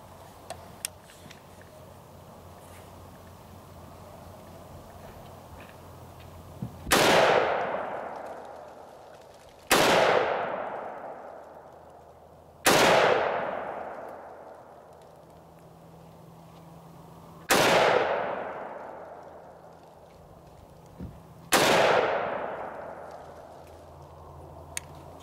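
An M214 minigun fires on a range at a target in five loud, separate bursts, each a sharp blast with a long decaying tail, spaced a few seconds apart over faint background noise.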